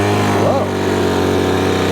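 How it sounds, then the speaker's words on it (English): A Craftsman B2000 gas leaf blower engine catches and runs on its first pull, a loud continuous buzzing drone with a brief rising sweep at the start, with a voice speaking over it. "pull the rope 5 to 10 times until the engine starts"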